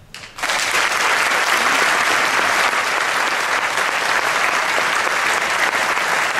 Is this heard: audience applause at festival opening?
yes